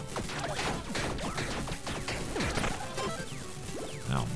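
Bombs shattering an object in the video game Tiny Rogues, a rapid flurry of crashing, smashing impacts and swishes packed densely together, loud and continuous for several seconds.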